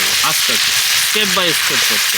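Onion, ginger and garlic paste frying in a wok of ghee with cardamom, cloves and cinnamon, a steady loud sizzle running throughout beneath a voice talking.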